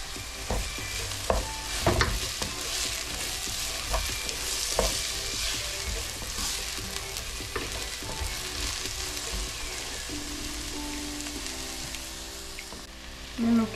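Half a green pepper and half a red pepper fry in a pan with a soft, steady sizzle, punctuated by scattered scrapes and clacks of stirring, without speech.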